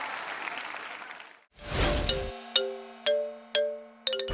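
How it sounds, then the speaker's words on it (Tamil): A Tamil television game-show studio audience claps steadily to welcome contestants for about a second and a half. A loud burst follows, then a series of ringing electronic chime tones. "நல்லா ஜோரா கைத்தட்டிலாம்."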